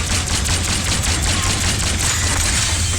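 Rapid gunfire from a game of Black Ops 6 Zombies, a dense, continuous barrage of shots with a steady low rumble, loud and unbroken for the whole stretch with no talk over it.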